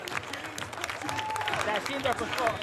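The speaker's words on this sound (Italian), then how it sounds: "questo l'applauso di Padova" A crowd applauds at the award ceremony of the Saint Anthony Marathon in Padova, steady outdoor clapping beneath an announcer speaking over a loudspeaker.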